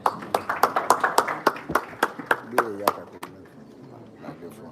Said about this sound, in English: It's a round of applause for me.